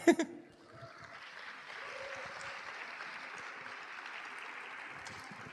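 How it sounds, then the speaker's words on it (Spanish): A karaoke event audience breaks into steady applause after a song, sustained clapping from a crowd that holds at an even level for several seconds with a few sharp claps at the start. "Así que aplauso para él."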